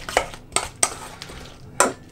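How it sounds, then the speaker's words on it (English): Apple pieces being mixed into Russian (Olivier) salad ingredients in a bowl, giving a few separate clinks and scrapes of a utensil against the bowl with quiet pauses between them, close by and without talk. "get it mixed in with the other ingredients"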